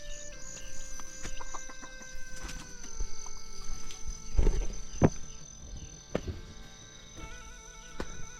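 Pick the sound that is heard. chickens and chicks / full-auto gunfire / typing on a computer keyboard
chickens and chicks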